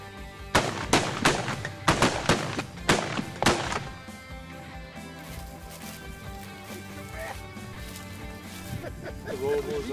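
A rapid volley of shotgun blasts from a duck and goose hunt, around eight loud overlapping shots in about three seconds, followed by calls and outdoor chatter.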